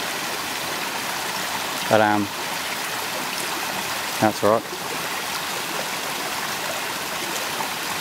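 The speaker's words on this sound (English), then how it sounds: "Nice little creek." A small creek flows in a steady, close trickling wash throughout, with someone speaking briefly twice over it.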